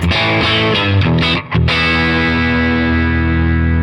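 Heavily distorted electric guitar chords through a Fender amp modeler into a speaker cab ring out loud with a brief dip, then one chord sustains and slowly fades, colored by effects.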